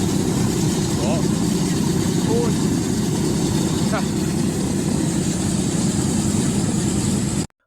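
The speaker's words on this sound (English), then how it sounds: "The radial engine is nothing like what we normally see these days." A C-47 aircraft's radial engine runs with a heavy, continuous low rumble close by, loud and steady until it cuts off abruptly at the end, with a voice speaking over it.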